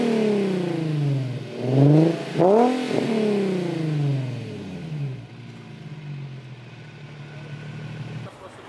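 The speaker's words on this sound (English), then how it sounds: "Let me get a nice little rev for you guys" An Infiniti G35 engine is revved a few times nearby, rising and falling in quick blips around the middle before settling into a steady idle that fades lower toward the end.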